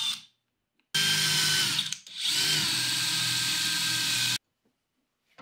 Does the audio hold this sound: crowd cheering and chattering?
no